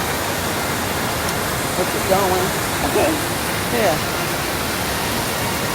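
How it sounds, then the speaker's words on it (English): Anna Ruby Falls, a waterfall in Georgia, pours as a loud, constant hiss of rushing water while a few people exchange brief words over it. "Anna Ruby Falls."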